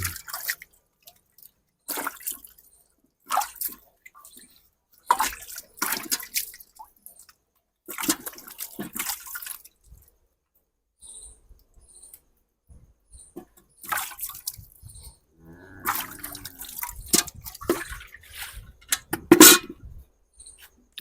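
Milk from a Nili-Ravi buffalo squirting into a metal bucket, irregular bursts of short liquid splashes and drips in quick clusters separated by pauses, close and fairly soft with no talking.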